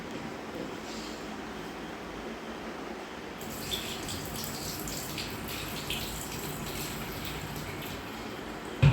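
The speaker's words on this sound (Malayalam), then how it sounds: "അമ്മ അതിനകത്തേക്ക് അരി കഴുകിയിടാൻ പോവാട്ടോ" Rice being rinsed in water: a steady splashing, trickling wash that runs on without a break, close by and moderately loud, with faint bird calls in the background and no voices.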